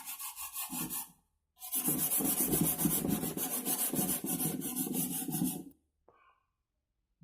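Rhythmic hand sanding of an electric guitar body under heavy rework, a steady rasping scrub of abrasive paper on wood that pauses briefly, resumes for several seconds, then stops with a faint final rub.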